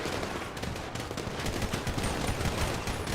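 Dense, continuous gunfire in a police roleplay video game, with overlapping rapid shots forming a steady loud barrage for the whole stretch and no voices.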